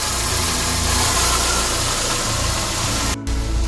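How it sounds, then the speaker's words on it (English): A rebuilt Toyota Camry engine on its first start after the rebuild, burning off a little oil, settles into a steady, close idle with an even mechanical hum and low rumble and one very brief dropout near the end. "She is on and she is idling okay. Idling really, really well, actually."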